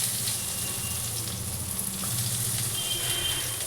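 Eggplant pieces sizzle steadily in hot oil over fried neem leaves, a close, constant hiss of frying with faint crackles, no talk.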